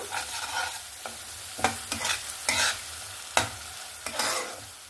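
Mustard-poppy paste being sautéed with onion, tomato and green chili in a pan, soft sizzling under a series of distinct stirring scrapes and knocks from a spatula, close and moderately quiet.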